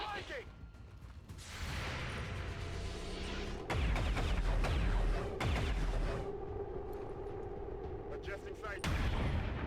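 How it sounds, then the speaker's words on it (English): Gunfire and heavy blasts in the XCOM 2 video game, several loud bursts and booming impacts over a few seconds with mechanical clatter, mixed with a speaking voice. "Shots on the Viking"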